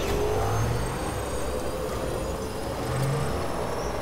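Steady vehicle engine roar during a turbo boost in the video game Death Stranding, a continuous broadband rumble held at constant loudness with no voices.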